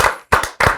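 Hands clap in three sharp, close bursts, each separated by a short pause, with nothing else heard.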